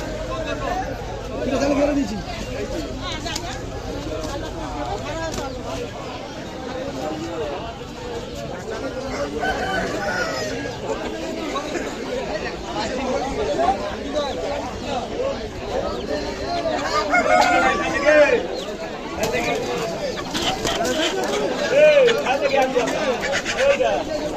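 Fighting roosters for sale at a market crow repeatedly amid clucking, with a busy crowd murmuring and people talking throughout.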